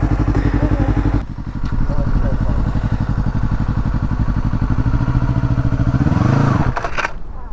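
A motorcycle engine runs steadily, then the revs drop as the rider pulls the clutch and clicks up into second gear, and the engine pulls again before easing off. Up close, with an instructor's voice talking over it.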